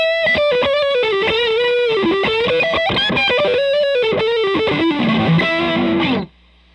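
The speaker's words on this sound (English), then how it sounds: "Saturator pedal has a more switch, so if you have quite a bit of gain going on, and you want more, you just push this button." Heavily distorted electric guitar runs through a Saturator pedal with its more switch engaged into a Fender Hot Rod Deville amp, playing a fast, saturated lead line loud and alone before cutting off abruptly.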